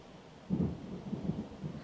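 Thunder from an overnight storm rumbles low and muffled, a deep roll that rises suddenly and then keeps grumbling in uneven pulses over faint background hiss.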